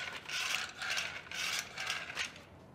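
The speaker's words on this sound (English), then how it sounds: "Pull release, pull it all the way up, and now we can pull it out and it retracts." A Strappino retractable ratchet tie-down strap for a boat is released and pulled, giving four rhythmic bursts of light clicking, ratcheting mechanism noise, close and clear with no voices.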